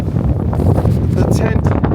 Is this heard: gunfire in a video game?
no